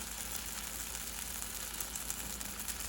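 Keto blueberry pancakes frying in a pan give off a steady, soft sizzle with faint crackles, constant and close throughout, with no voices.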